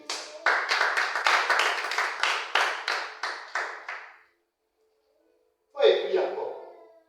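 A church congregation at a night vigil claps in a fast, steady rhythm of about a dozen loud beats, falls silent for over a second, then breaks into another burst of clapping.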